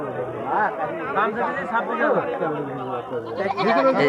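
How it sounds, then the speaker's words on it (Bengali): Goats bleat at a busy rural livestock market, with several wavering calls rising over a steady crowd chatter and nearby talk throughout. "দেখছেন মা ছাগল"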